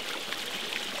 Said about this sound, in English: And just the water just running down